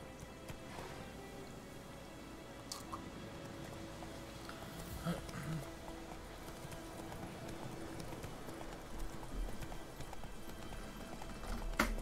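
Roach the horse clip-clops at a steady trot in a video game, hooves beating a quick even rhythm at moderate distance against soft background ambience, fairly quiet overall.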